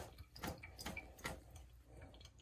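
Water runs and splashes over an LG washing machine filter as it is rinsed, a quiet, continuous wash broken by a few louder splashing bursts.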